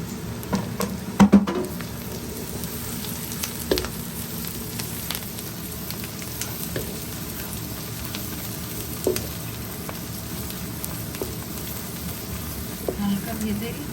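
Chopped garlic frying in a pan while making kala bhuna, a steady close sizzle with occasional clicks and scrapes of stirring, and a little speech in the background.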